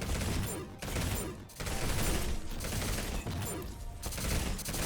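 Dense, continuous weapon fire from the video game GTTOD, with rapid overlapping shots and a couple of short breaks.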